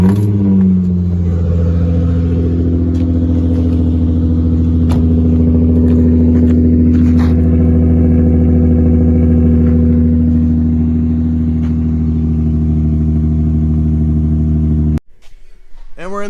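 An Infiniti G35 idles steadily with a quiet, smooth stock exhaust, a low droning engine note holding near and even for about fifteen seconds before cutting off abruptly.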